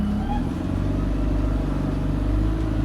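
A faulty London bus engine on route W9, registration LK09ENF, drones with a heavy low rumble and steady mechanical hum heard from inside near the engine, continuous and fairly loud.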